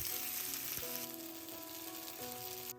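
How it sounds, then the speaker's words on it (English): Vada shallow frying in medium-heat oil in a pan, a dense, steady, close sizzle that runs throughout with a tonal hum or music underneath, cutting off abruptly at the very end. "As I was already using the pan, I decided to shallow fry it today."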